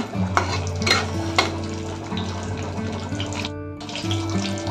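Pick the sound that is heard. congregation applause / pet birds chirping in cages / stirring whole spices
stirring whole spices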